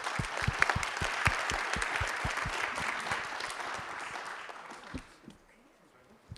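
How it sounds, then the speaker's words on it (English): An audience applauds after a conference panel's speakers are introduced at an architecture event, with dense sustained clapping that gradually thins and fades, then a few scattered claps near the end. "Round of applause."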